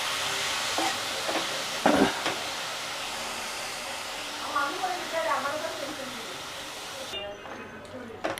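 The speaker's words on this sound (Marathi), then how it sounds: "तेलामध्ये थोडासा असा परतून घ्यायचा तो." Spinach sautéing in oil in a pan, heard as a steady soft hiss of frying with a few clinks of the spoon, while someone talks over it throughout.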